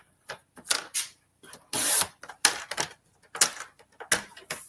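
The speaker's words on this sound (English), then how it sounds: "now I'm going to cut this one down." Cardstock is cut down to size on a paper trimmer, giving a series of crisp clicks, slides and cutting swipes, close and distinct, with no talk.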